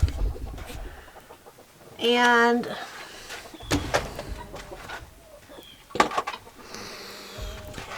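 Chickens squawk and cluck near a roosting box with a small ladder inside a chicken tractor, one loud harmonic squawk standing out briefly amid scattered clucks and knocks while a person talks nearby.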